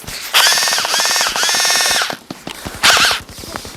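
Loud bursts of full-auto fire from an M4 CQBR Block 1 gel blaster firing 7-8 mm gel beads, with rapid rattling strings of shots broken by short pauses, close up and alone.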